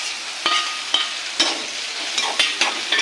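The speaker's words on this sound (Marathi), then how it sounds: "टोमॅटो टाकला लगेच ही कर्दी फ्राय करून घ्यायची तेलामध्ये चांगली" Small prawns (kardi) frying with tomato in hot oil, a continuous bright sizzle broken by several sharp crackles and stirring scrapes, close and alone.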